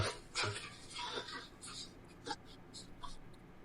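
A dog whimpers and yips faintly in short bursts amid background noise and muffled voices.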